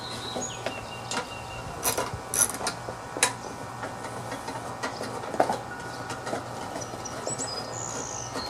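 Bolts are removed from the rear of a lawn mower with a ratchet, giving rapid close clicking and metallic ratcheting over a steady low hum, with occasional clanks and no talk.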